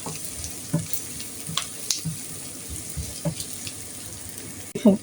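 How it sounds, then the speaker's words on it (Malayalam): Onions sautéing in a pan for beef curry as salt goes in, a soft steady sizzle with a few light scraping taps and a louder clatter near the end, no speech. "ഇത് ഉള്ളി വാട്ടുന്നതിൽ ഇച്ചിരി ഉപ്പും കൂടെ ഇടുകയാണേ"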